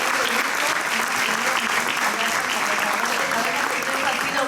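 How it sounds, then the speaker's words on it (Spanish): Dense, sustained audience applause at an impact-dialogue event, loud and unbroken from start to finish, with a faint murmur of voices mixed into the clapping. "Un aplauso, por favor."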